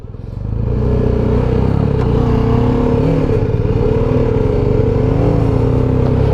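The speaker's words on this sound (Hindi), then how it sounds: "हारिस भाई की 1200 है भाईजान, ये पकड़े ही नहीं जाते हैं।" A motorcycle climbs a mountain road toward Nathia Gali, its engine droning loud and close in a steady, revving hum with no talk over it.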